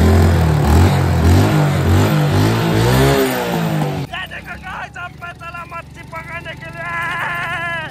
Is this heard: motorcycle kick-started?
yes